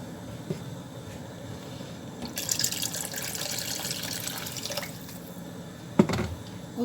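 Hot water poured into a cooking pot on the stove, a steady splashing stream lasting a few seconds at close range, then a single clunk near the end, with no voices.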